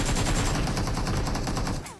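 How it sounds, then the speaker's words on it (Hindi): Rapid gunfire from a shotgun in a video game, a dense continuous burst of loud, sharp reports that fills the moment and then cuts off near the end, with no voices. "ये वाली शॉटगन लेके चलने वाला हूँ"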